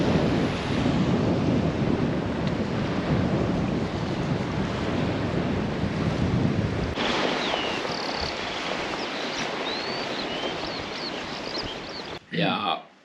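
Cold wind roars steadily across a Danish sea shore, a loud, continuous gusting rush that buffets the microphone, easing slightly partway through, with faint bird cries high above and a brief rustle near the end.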